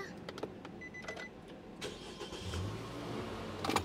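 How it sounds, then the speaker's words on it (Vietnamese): A 2019 Nissan Terra with a petrol engine and automatic gearbox starts up, with a few clicks and a short cranking catch followed by a low, steady idle rumble from close by. "Rồi, thì sẽ nổ máy nha."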